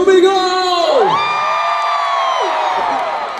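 A live crowd at a televised variety show event in Australia roars and shouts, loud close whoops and screams sweeping up and down, with cheering sustained across the whole stretch.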